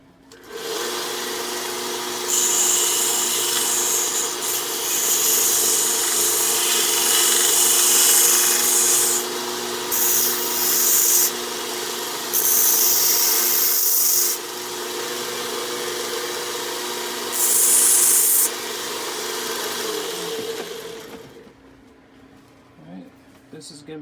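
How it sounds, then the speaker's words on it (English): A power sander grinds down sharp points on a twisted metal fork, a loud steady whine with brief surges of harsher rasping contact, close by, dying away at the end. "We're going to clean this up with our sander."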